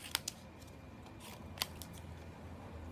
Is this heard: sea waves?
no